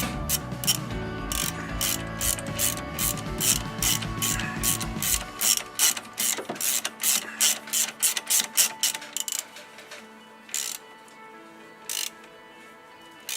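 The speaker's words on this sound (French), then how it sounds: "Resserrez l'écrou à l'aide du cliquet et de sa douille." A ratchet with socket tightens the nut on a Peugeot 206 front steering ball joint, giving a quick run of sharp clicking bursts up close over a low mechanical hum that cuts out partway through, with no talk.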